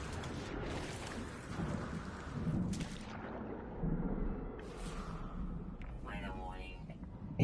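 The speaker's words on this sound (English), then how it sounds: "Incoming storm" Thunder from an incoming storm on a planet in No Man's Sky, with low rumbling over rainy ambience and a person talking over it.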